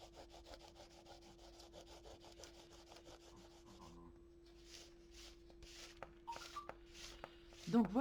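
A finger rubs dried drawing gum (masking fluid) off paper in quick repeated scrubbing strokes, faint and close, followed by a quiet voice speaking and light handling taps.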